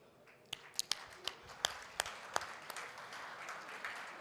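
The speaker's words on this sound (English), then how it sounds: "give them a round of applause" At a provincial youth employment workshop, a sparse audience starts applauding the DBE team: scattered individual claps ring out one by one, then thicken into soft, low-level clapping from across the room.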